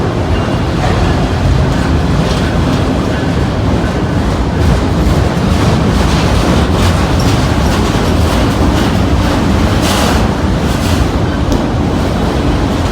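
A freight train with auto racks rolls down the middle of a town's Main Street, a loud, continuous rumble and rattle of cars passing close by, steady throughout with no talk.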